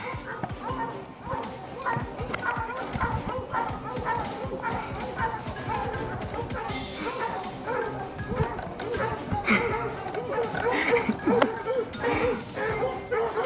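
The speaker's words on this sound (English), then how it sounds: "there are noisy dogs back there." Several dogs bark and yip in the background, overlapping with continuous talking and other busy noise throughout.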